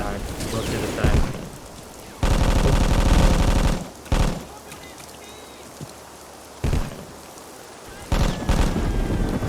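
Bursts of M60 machine gun fire in the Vietnam War video game Vietcong, several separate loud volleys, one sustained, with quieter rumbling gaps and talk between them.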